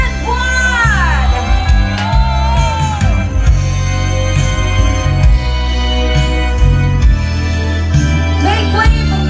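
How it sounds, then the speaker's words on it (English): A crowd at a Goa wedding reception screams and cheers loudly under heavy pounding music, with shouts and whoops rising through the steady din. "Everybody scream with me."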